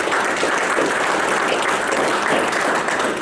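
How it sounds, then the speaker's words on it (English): Steady applause from a sizable crowd, dense and even clapping throughout, fairly loud with no voices standing out. "Can you give them a round of applause, please?"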